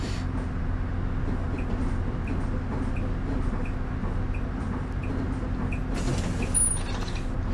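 Steady engine drone and rattling creaks from a bus in the OMSI 2 driving game on the Harrowthorpe route 626 map, a continuous low hum with faint periodic ticks and a brief higher squeal near the end, no talking.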